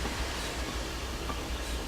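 Steam locomotive running in Train Simulator 2015 on a Somerset to Dorset line, a steady low rumbling chug with faint rail clatter, continuous and moderately loud with no talk.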